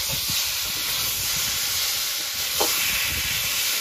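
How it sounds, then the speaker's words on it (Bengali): Chili paste sizzles in hot oil with fried potato and taro while being stirred, a steady loud hiss and crackle close up with a few soft scraping knocks from the spoon. "লঙ্কা বাটা দিয়ে দিয়েছি, এবার নেড়ে চেড়ে একটু এর সাথে কষিয়ে নেব।"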